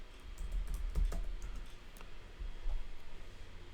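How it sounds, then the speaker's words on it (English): Soft clicks of typing on a computer keyboard while entering a card name in MTG Arena, irregular close taps over a low background hum. "and you're going to type Phoenix."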